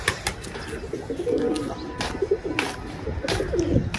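Pigeons coo softly and repeatedly close by, with low burbling calls mixed with light wing flutters and shuffling.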